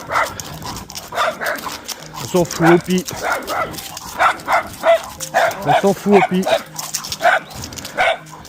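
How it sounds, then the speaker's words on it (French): A dog barks repeatedly outdoors in short bursts, mixed in with people talking in French close by. "Ah, c'est un chien là."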